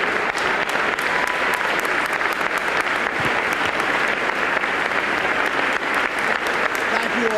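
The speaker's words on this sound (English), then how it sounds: "Members of the governor's staff are leading this prolonged round of applause" A 1994 New Jersey State of the State address for Governor Jim Florio draws a long, loud, unbroken round of applause from a packed chamber, led by members of the governor's staff.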